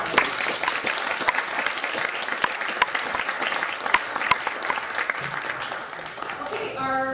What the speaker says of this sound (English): I'd like to give all of those people one round of applause